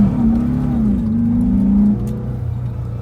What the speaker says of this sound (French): avec des carbus bien réglés, même le ralenti, il y a tout qui est stable, ça roule parfaitement.